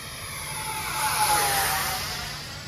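X-Fly SU-27 twin 50mm electric ducted-fan RC jet making a flyby, a high whooshing whine that swells as it passes and fades again, heard alone.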